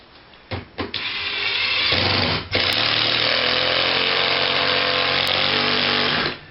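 A power drill drives screws into a bathroom wall, a few short trigger bursts followed by a long, loud, steady whirring run with a brief dip partway; close and alone, no talking.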